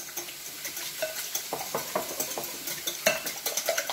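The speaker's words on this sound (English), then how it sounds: "we're going to mix these eggs up here" Eggs whisked by hand in a bowl, a quick steady run of light scraping, clicking strokes against the sides, close and moderately loud with no talking.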